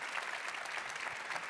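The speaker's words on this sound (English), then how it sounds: "another round of applause, please, for Hannah" A school audience applauds a student, a brief, dense wash of clapping heard at a moderate distance, even and sustained throughout.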